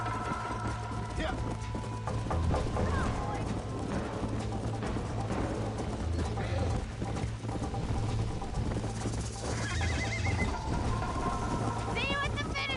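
Horse hooves clip-clop at a gallop in the Red Dead Redemption video game. A brief neigh rises over steady low game ambience, and speech-like voices are also present.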